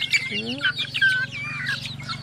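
Backyard chickens, a rooster among hens, give a run of short clucks and soft chirps close by, with little talk.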